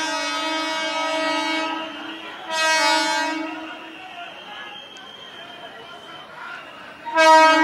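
A train sounds its horn in long, loud blasts at Andheri station during a rail-blockade protest, with a pause and a third blast, over rumbling rail noise and a crowd.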